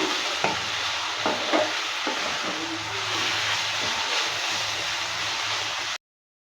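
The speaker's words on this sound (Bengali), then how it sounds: "কিছুক্ষণ সময় নিয়ে ভালো করে ভেজে নিয়েছে আলু দিয়ে পালং শাকের ভাজাটা রেডি হয়ে গেছে" Potatoes and spinach fry in a pan, giving a steady close sizzle with a few scattered knocks and scrapes of stirring, then stopping suddenly into silence.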